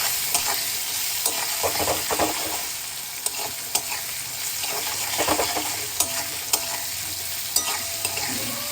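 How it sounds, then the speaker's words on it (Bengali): Diced potatoes with salt and turmeric fry in a pan with a constant close sizzle, punctuated by sharp spatula clicks and scrapes as they are stirred. "যতক্ষণে আমার এখানে আলু ভাজা হচ্ছে"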